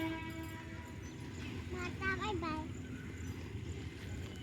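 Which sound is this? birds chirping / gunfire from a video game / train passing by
train passing by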